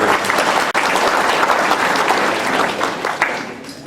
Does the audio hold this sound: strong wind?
no